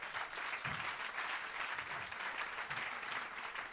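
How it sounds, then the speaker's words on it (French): An audience at a francophone fundraising seminar applauds, a steady, even wash of clapping from many hands, heard from some distance and fairly faint. "On peut applaudir les vagues, quand même, c'est pas mal"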